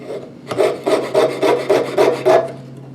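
A fret saw blade cuts through metal in saw piercing, six quick, even rasping strokes in a steady rhythm, close and loud.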